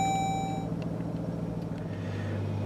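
A 2018 Jeep Grand Cherokee Trackhawk engine catches and settles into a steady, deep idle rumble, with brief electronic chimes at the start and a rise in low drone near the end.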